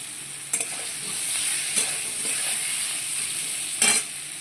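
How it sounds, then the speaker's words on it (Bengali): Eggplant, already seasoned with turmeric, sautés in a pan with a steady soft sizzle, and a few sharp scrapes of a spoon stirring come through; no one speaks. "বেগুনটা কষানো হয়ে গেছে"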